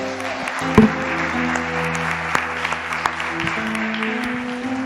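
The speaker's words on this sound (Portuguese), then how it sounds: "Se você recebe isso, dê um aplauso ao Senhor Jesus" A church congregation claps steadily during a worship service while sustained organ or keyboard chords play beneath, with a few louder claps standing out.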